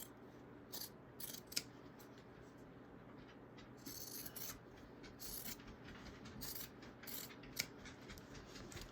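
Scissors trim sewn fabric for a bag, making a series of quiet crisp snips spread irregularly over several seconds, faint and close, with no talk.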